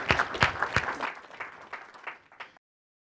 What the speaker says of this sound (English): let's start with a round of applause for them